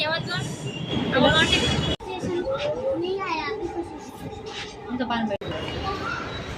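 A metro train at a station, with continuous rolling rumble and a steady electric hum under nearby chatter and voices, briefly cut twice.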